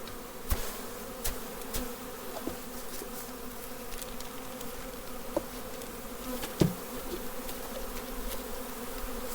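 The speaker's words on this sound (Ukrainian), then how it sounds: "Все, ця бджола розбереться." A steady, dense hum of many bees buzzing continuously nearby, with occasional faint clicks and knocks over the drone.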